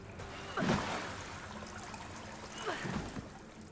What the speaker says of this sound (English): You can move faster through water by rolling through it.